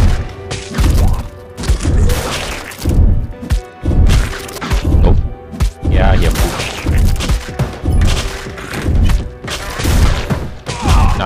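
Rapid machine gun fire and thudding impacts cutting down zombies in the mobile game Dead Ahead Zombie Warfare, a loud dense barrage of game effects in repeated bursts with little break.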